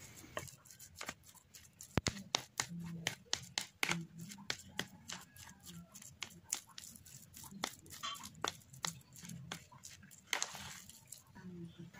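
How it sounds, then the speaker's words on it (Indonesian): Steamed sweet potatoes, still hot, being mashed with a fork, giving soft irregular squashing taps and scrapes against the bowl close up, with a low background hum and no talk. "mumpung masih panas, ubi ini kita haluskan dengan menggunakan garpu"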